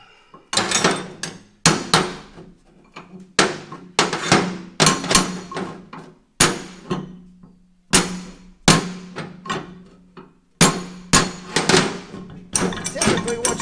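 A big steel punch struck hard with a hammer while restoring a Columbian 603-1/2 vise, about a dozen loud, sharp metallic blows in a slow, uneven rhythm, each ringing briefly before the next.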